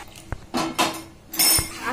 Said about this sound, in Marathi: हे मी 1 चमचा कढईमध्ये सोडून थोडं थोडं हलवून घेणार